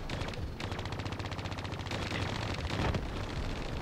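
Rapid automatic gunfire from Call of Duty Black Ops III, a dense, continuous rattle of shots with heavy low rumble, loud and close, with no talking over it.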